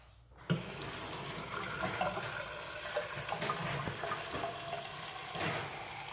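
A water tap runs steadily to fill a dog's water bowl, a continuous splashing rush close by with a sharp start and a few louder surges as the bowl fills.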